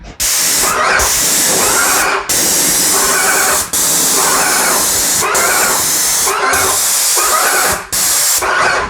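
A Graco 390 cordless airless paint sprayer with a 515 LP tip spraying waterborne paint onto wood, loud sustained hissing bursts of a few seconds each, separated by brief gaps as the trigger is released.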